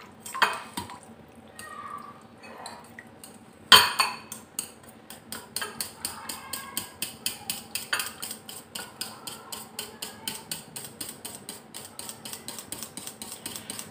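A spoon clinks and scrapes rhythmically against a bowl as yogurt and grated cucumber are mixed, with repeated quick strokes building to a steady beat after a louder knock near the start.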